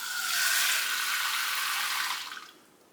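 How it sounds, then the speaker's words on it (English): Water pours from a tap into a bowl holding flour and chicken in a home kitchen, a steady bright rushing stream that runs for about two seconds and then tapers off into quiet. "I'm gonna put my water in there."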